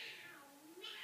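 A child imitates a cat, giving two drawn-out meows close to the mic, the first falling in pitch and the second rising at the end, with nothing else in the background.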